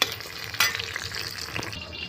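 Pieces of pointed gourd sizzle and crackle as they fry in hot oil in a pan, a close, soft, continuous frying sound with a few brief louder spits and stirring.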